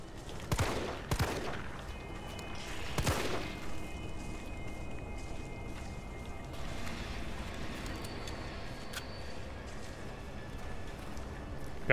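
Bursts of rapid gunfire in Resident Evil 3 crackle in quick volleys early on, then fade into a steady background hum with occasional distant shots.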